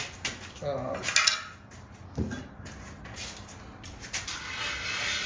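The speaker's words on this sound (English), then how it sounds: "Again, I'll go back with the chainmail also." A chainmail scrubber rasps and clinks against a metal discada pan in short uneven strokes, with metallic scraping and occasional sharper rattles, close and fairly quiet.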